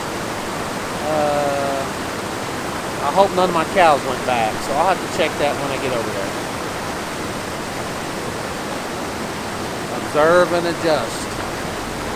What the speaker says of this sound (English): The creek is up and rolling.